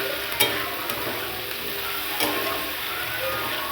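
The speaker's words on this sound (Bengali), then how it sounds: "নিয়ে ক্যাপসিকামটা ভাজতে শুরু করবে" Capsicum frying in a pan with onion and garlic, a steady soft sizzle with occasional faint scrapes and taps of stirring, no voices.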